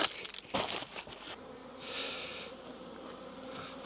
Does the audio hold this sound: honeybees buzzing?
yes